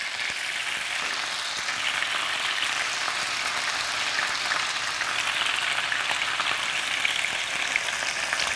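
Tuna pieces searing in a pan of very hot oil, an even, dense crackling sizzle that holds steady and close throughout.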